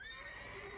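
A mare whinnies in The Witcher 3: Wild Hunt, a brief, sustained tonal neigh held under a soft background hum, close and fairly quiet, with no talking.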